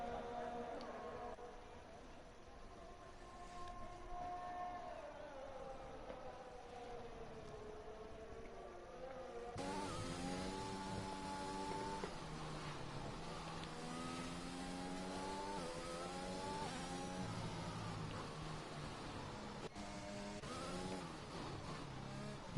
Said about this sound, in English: Jackson is going to be indeed the first one to start his hot lap of Q3 here